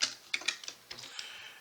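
Light clicks of a computer keyboard while entering a regression formula into an Excel spreadsheet, a few quick irregular keystrokes close by, fairly quiet and alone.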